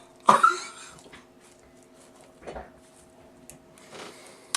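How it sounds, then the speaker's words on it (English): One loud, harsh, raspy cough from a horse bursts out close by, followed by quieter rough breaths or smaller coughs a few seconds later. "there's that horse cough"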